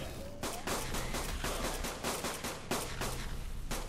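Rapid bursts of gunfire in the video game ARK, sharp repeated cracks in quick succession, loud and close.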